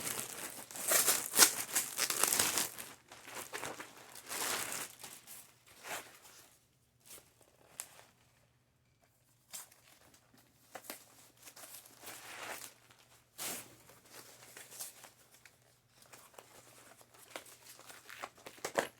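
Packaging crinkles and rustles in uneven bursts as a Coach purchase is unboxed up close, with louder crumpling early on and quieter pauses between handling.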